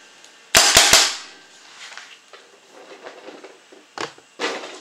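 An 06 Ego paintball marker on semi-auto with a Virtue board fires homemade Model Magic reballs: three quick sharp pops in a rapid burst near the start, then two more single shots later, close and loud over faint background noise.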